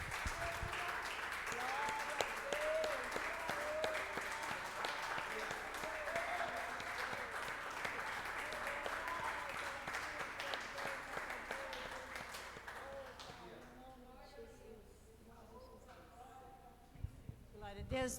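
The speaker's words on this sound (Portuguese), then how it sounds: "Vamos aplaudir mais uma vez o Senhor, Rei dos Reis, Senhor do Senhor" Congregation applauding in a church service, a dense, sustained wash of clapping filling the room with some voices calling out over it, thinning toward the end with a few scattered claps.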